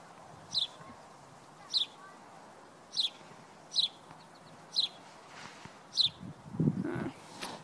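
A bird chirps outdoors on a calm day, six short sharp chirps evenly spaced about a second apart over a faint background hiss, with a soft low rustle near the end.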